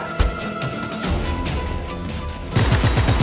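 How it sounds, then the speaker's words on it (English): Bursts of rapid gunfire crackle close by, a sharp shot at the start, then sustained automatic fire growing heavier toward the end. "He has gunshots in the area."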